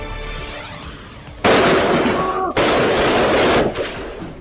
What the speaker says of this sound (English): violent video out of South Memphis shows a person shooting a man at a parking lot of a gas station